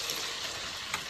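Pieces of idli frying in hot oil for a chili idli recipe, giving a steady, dense sizzle and crackle that holds at an even level the whole time, with no talking.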